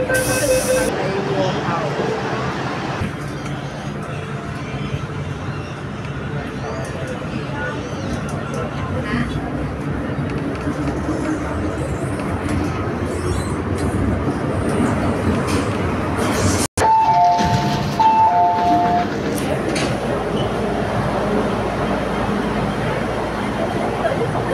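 A subway train rumbles and hisses steadily through a Hong Kong MTR station at Kwai Hing, with a brief chime tone and a sharp click partway, while people talk nearby.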